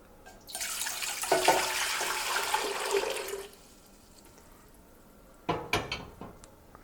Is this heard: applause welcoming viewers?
no